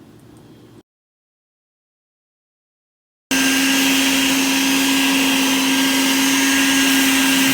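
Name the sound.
vacuum sucking sand out of a pool filter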